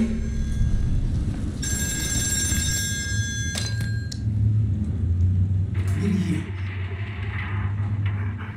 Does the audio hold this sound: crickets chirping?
no